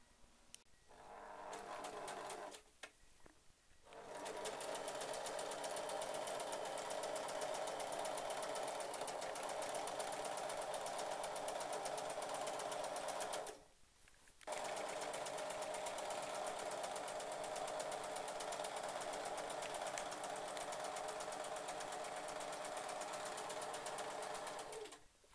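A sewing machine stitching a petticoat waistband runs in a steady, rapid, close-up mechanical whir, stopping briefly twice before starting again, with no talking.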